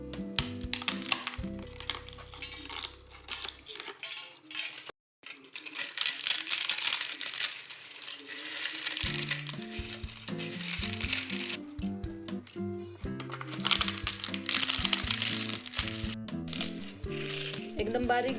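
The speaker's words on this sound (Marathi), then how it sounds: "हा पापड आपण आता एका मोठ्या प्लेटमध्ये घेऊ आणि त्याचा आपण चुरा करूया" Roasted urad dal papad is crushed into crumbs on a large plate, giving a close, dry crackling and crumbling texture in long stretches over a steady tonal background.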